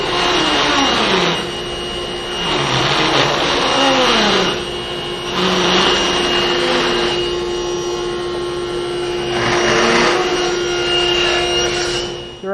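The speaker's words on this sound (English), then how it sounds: "you can remove that material using a router, just working your way back and forth across it" A router cuts across plywood in a woodworking shop, loud roaring whine rising and falling in pitch as the bit moves back and forth in several passes, with brief dips between strokes.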